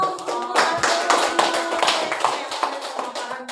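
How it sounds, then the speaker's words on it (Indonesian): A small audience at a school presentation claps in scattered, uneven bursts, distinct hand claps close by over a faint background hum, with no one speaking. "Tepuk tangan dong."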